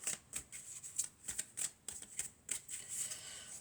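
Tarot cards are shuffled by hand in quick bursts of crisp riffling, a series of short close flutters with brief gaps between them and no talking.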